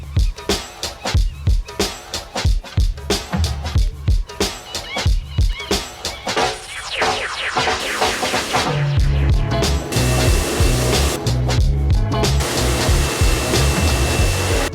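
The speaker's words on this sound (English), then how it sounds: "we just hit this with the jet wash next to it" A pressure washer jet blasting dirt off a car, first in rapid pulsing bursts, then settling into a loud, steady roaring spray that dominates the scene with some talk beneath.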